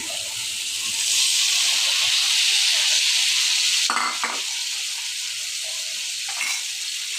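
Washed fish in mustard hitting a hot pan, a loud, steady frying sizzle with hiss that swells after the first second, punctuated by a couple of brief clattering stirs of a utensil.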